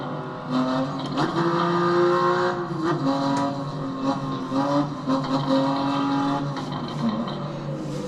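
BMW M4 engine revving in the racing game Assetto Corsa, a rising and falling tonal howl with gear-like pitch shifts and brief tire noise, fairly loud and steady.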